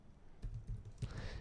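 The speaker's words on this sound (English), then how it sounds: "so let's type in" Code being typed on a computer keyboard, a short run of soft, close keystrokes with a few heavier taps.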